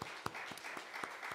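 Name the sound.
church congregation applause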